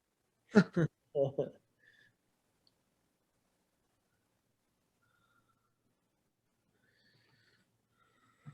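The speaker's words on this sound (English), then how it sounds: "Arabian horses." A short, loud neigh from Arabian horses in a Star Wars film bursts out near the start, with a second brief snort-like call right after. Near silence follows, with only faint traces at the end.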